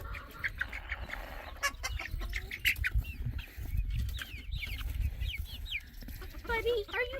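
Baby silkie chickens and a rooster cluck and peep close by outdoors, with irregular chirps, rustling and brief flapping over a low rumble.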